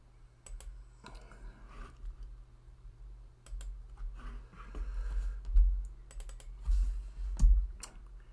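Intermittent clicks of a computer keyboard during 3D modelling for an RC 3D-printed B-29, with short bursts of key taps and the Alt key pressed repeatedly, close and fairly quiet over a low steady hum.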